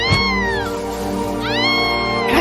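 A cat in an animated film gives two drawn-out, loud and close meows, one after the other, each rising and then falling, with nothing else heard.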